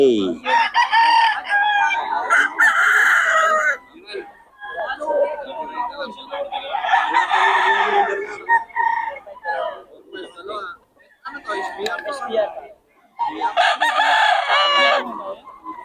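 Roundhead roosters at a market in Bocaue crow loudly several times, with clucking between the crows, while people talk close by.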